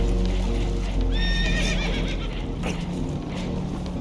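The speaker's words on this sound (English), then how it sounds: "Horses are spooked" Spooked horses in Red Dead Redemption 2 give a loud, quavering whinny in the middle, set against a continuous rumbling background with hoof clatter and commotion.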